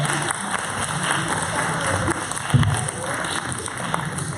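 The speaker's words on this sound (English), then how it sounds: "Give her a round of applause, everybody." An audience gives a round of applause, a steady wash of clapping from the crowd that holds for the whole stretch, with speech audible over it.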